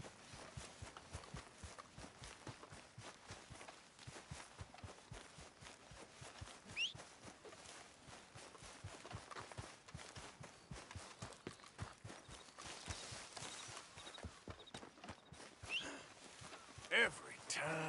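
Horse hooves clip-clop in a video game, a dense, steady run of close hoof beats lasting throughout, with a voice talking over them.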